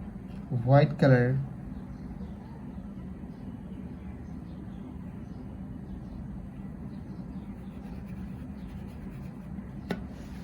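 A writing effect in a children's animation while kids write out the shape of Easter: a short, bright scratchy stroke burst near the start, then a quiet background hum with a faint tick near the end.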